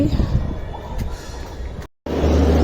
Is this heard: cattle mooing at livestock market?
no